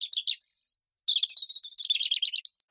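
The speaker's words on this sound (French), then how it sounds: "Celui que vous venez d'entendre est un rouge-gorge familier." A European robin sings close and clear, a rapid, high, twittering phrase with a thin sustained whistle, a short pause, then a longer run of quick, warbling notes ending on another fine whistle.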